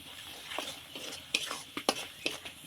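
Turmeric, coriander powder and salt sautéed in a pan for a meat khichuri, stirred with a utensil in quick scraping strokes and light clinks over a soft sizzle, close up with no talking.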